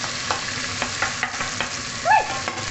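Hot oil spatters and crackles in a pan while salmon fries for sinigang, with sharp pops scattered across a steady frying hiss and one louder burst of splatter near the end.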